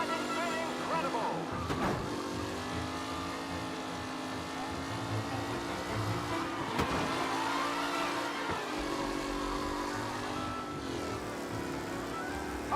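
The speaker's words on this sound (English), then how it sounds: "The race leaders roar into the second lap." Race cars roar continuously through a lap in the video game Mafia Definitive Edition, engines droning loud and close with shifting pitch, and a voice talks over the racing.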